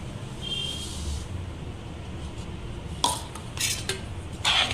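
Salt being mixed into mango pickle in a bowl, with a soft, continuous stirring rustle and then several sharper clinks and scrapes of a utensil against the bowl toward the end.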